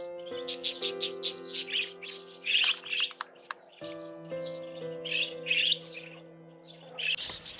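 A flock of wild budgerigars in an Australian forest: busy, high chirps and twittering calls in repeated bursts, fairly close, over a steady sustained tonal background.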